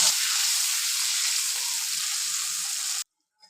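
Ground mustard paste added to tomato paste frying in hot oil with nigella seeds for a potato dish makes a loud, steady sizzle for about three seconds, then cuts off sharply to near silence with one faint tap.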